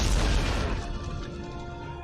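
An explosion in the video game Mass Effect 3: a loud low boom with a crashing burst that decays over about two seconds into a fading rumble.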